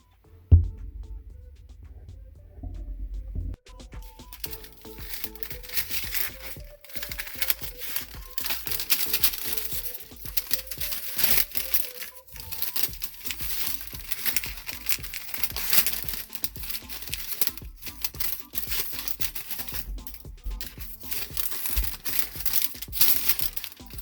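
Parchment paper being cut to line a cake baking tin, a steady crinkling and crisp rustling that runs continuously and close up for most of the stretch, with no talking.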